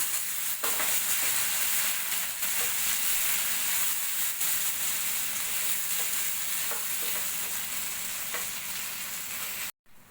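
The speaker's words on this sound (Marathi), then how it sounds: "आपला हा मसाला त्याच्यात परतून झालेला आहे" An onion, tomato and cashew paste sautéing in a pan, a steady loud sizzle with repeated scraping stirs of a spoon, near and without talk.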